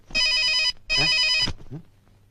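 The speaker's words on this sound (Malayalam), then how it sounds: "എന്റെ ഫോൺ പോയടാ. ബെല്ലടിക്കണുണ്ട്." A mobile phone rings with two loud, bright electronic bursts close by, then fades into a few faint, brief sounds.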